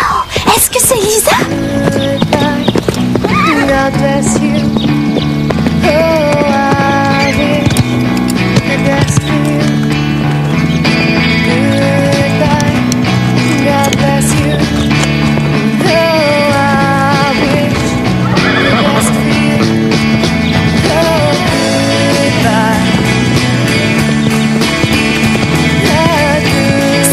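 A cartoon horse whinnies and its hooves clip-clop at a gallop, mixed loudly into a continuous orchestral music score that runs the whole time, with no clear talk over it.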